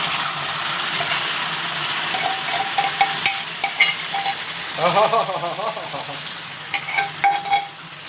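Beef and onions fry in a pan with a constant sizzle, mixed with scraping stirs and clinks of a utensil against the pan that grow busier toward the end.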